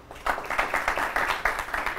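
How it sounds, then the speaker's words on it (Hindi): A studio audience claps to welcome guests onto a Hindi talk show, with rhythmic, fairly close applause that builds quickly after a quiet start and keeps a steady, pulsing beat to the end. "चलिए तो जोरदार तालियों के साथ स्वागत करते हैं अपने तमाम मेहमानों का।"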